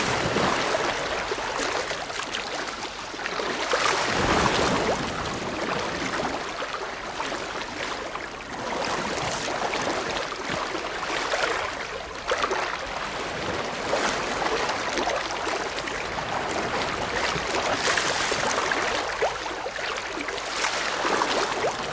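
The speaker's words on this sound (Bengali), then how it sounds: "আর তার ঠিক পাশেই রয়েছে ঝর্ণা।" A waterfall stream beside a temple rushes continuously, a broad steady roar of flowing water with gentle surges and no voices.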